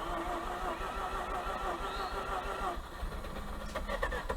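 A 2004 Mazda RX8 engine cranks on a start attempt, a steady mid-pitched mechanical churn that runs close and loud throughout, changing character slightly near the end.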